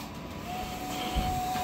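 A large-format sign shop printer runs steadily through decals of plows and truck bodies, giving a continuous mechanical whir and hiss with a faint sustained tone, close by and with no talking.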